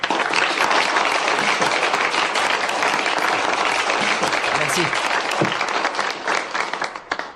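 An audience breaks into loud, sustained applause for a guest of honour, dense clapping filling the room before tapering off near the end, where a single voice speaks briefly.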